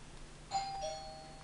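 Doorbell chime at home, a quiet two-note ding-dong sounding once over a low steady background hum.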